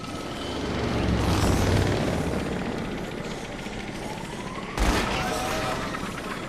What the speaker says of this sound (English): The best time to approach the winch is after the helicopter tries to collide with you